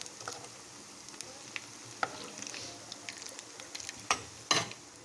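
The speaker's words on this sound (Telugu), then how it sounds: "గారెలు ఫ్రై అవుతున్నాయి" Telugu garelu, lentil fritters, sizzle and crackle in hot oil, a continuous frying hiss punctuated by sharp pops and a few louder clinks of stirring.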